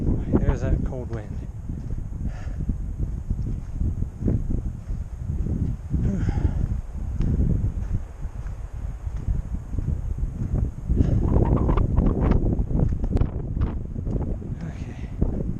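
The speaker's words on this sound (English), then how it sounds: "Oh boy, there's that cold wind." Cold wind gusts across a stormy mountain hiking trail, buffeting the microphone with loud, uneven low roaring that swells and fades, while a hiker speaks intermittently over it.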